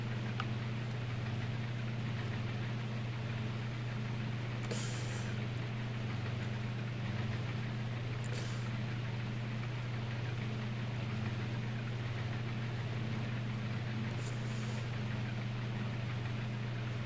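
A tractor engine in the Farming Simulator 22 video game runs at a steady low drone with a constant hum, with a few brief faint higher clicks scattered through, and no talk.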